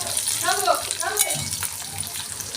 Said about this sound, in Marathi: याच्यामध्ये हिरवी मिरची अद्रक लसूण हे टाकून घेतलेलं आहे हे सगळं आपण आता तेलातून मस्त परतून घेऊ